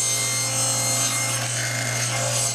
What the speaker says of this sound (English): we'll go ahead and run this through, which will cut this top block here.